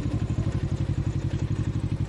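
A motorcycle idles close by as it is parked near Niludhan waterfalls in Bayawan, Negros Oriental, its engine throbbing in a steady, rapid pulsing rhythm with no talk.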